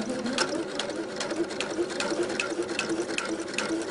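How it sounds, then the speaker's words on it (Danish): A sewing machine stitches a shopping net, running at an even rapid rhythm with sharp regular needle clicks, loud and close throughout. "Der er ingen piv her fra symaskinens side."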